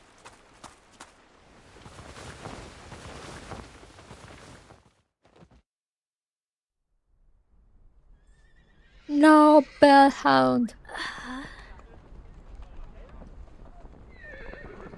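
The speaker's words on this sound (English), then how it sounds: "The sound of dozens of horses neighing at once echoes from somewhere far away." Horses from the game Reverse: 1999: hooves clip-clop softly at first, then after a quiet gap several loud, high neighs and whinnies ring out in quick succession, fading into faint echoing cries, with a brief spoken exclamation nearby.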